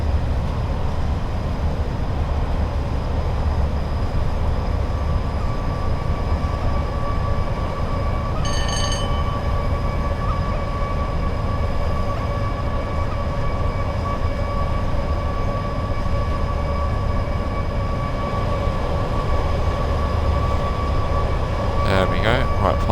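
A Class 86 electric locomotive hauling Mk2 coaches on the West Coast Main Line over Shap, simulated in Train Sim World 6, gives off a steady loud rumble with a constant tonal hum and brief metallic clanks near the middle and end.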